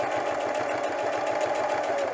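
A sewing machine stitches steadily while back-tacking over a pleat on a fabric diaper bag tote, giving a continuous close, even mechanical whir with a fast regular pulse throughout.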